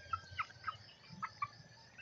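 Chickens on a rural province farm give several short, faint clucks in quick succession, somewhat distant and alone.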